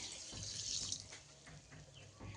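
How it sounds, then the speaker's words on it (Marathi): Water poured into measured sugar in a pot for making laddoos, a brief soft splashing pour heard close and fairly quiet, with no talking. "एक अर्धा लिटर पाणी आपण या साखरेमध्ये ओतून घेणार घेतोय"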